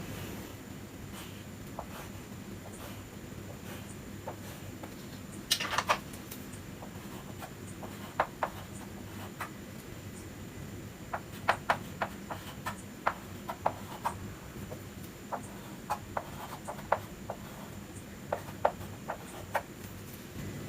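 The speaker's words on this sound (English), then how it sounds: "And write all the values in this table." A pen scratches values into a table on paper for a machine drawing of a square-headed bolt with nut and washer. Soft, sporadic ticks and short strokes sit over a low room hum, close and quiet, with no speech.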